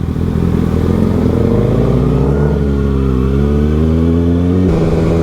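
Yamaha R7 sport motorcycle engine droning loudly and steadily close by, its pitch dipping and rising as it passes, with a sudden shift in tone near the end.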